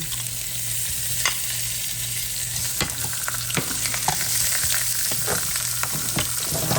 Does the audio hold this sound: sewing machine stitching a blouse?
no